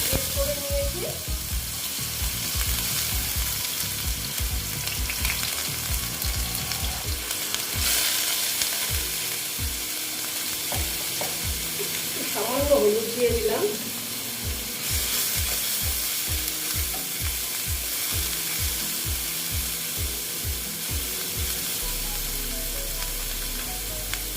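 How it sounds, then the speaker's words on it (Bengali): Onion frying in a pan after cumin for a bhindi dish, a continuous loud sizzle with regular rhythmic scraping stirs throughout, close up and with no talking. "এইবার আমি দিয়ে দিচ্ছি পেঁয়াজ"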